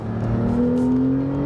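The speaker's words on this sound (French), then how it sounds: "Quant au moteur turbo, il permet de passer d'un virage à l'autre à une vitesse folle." A Porsche 911 Type 991 Turbo's engine pulls hard under acceleration, a steady, loud drone with a tone that climbs gradually as revs rise, heard alone without voices.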